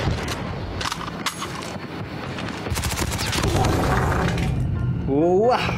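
Bursts of M13 rifle fire in a mobile shooter game, rapid cracking volleys with clinking and shattering effects over steady game background, ending in a rising electronic tone.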